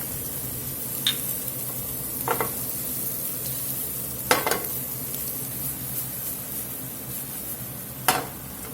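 Shallot and onion fry in a hot pan with a low, steady sizzle, broken by a few brief scrapes and clinks of a utensil stirring; no one talks.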